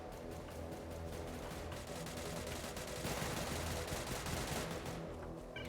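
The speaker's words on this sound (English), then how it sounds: "Oh, there's a lot of shooting." Gunfire in a STALKER-style Minecraft game, a continuous dense crackle of distant shots and bursts spread over several seconds, steady and fairly quiet, with no talking.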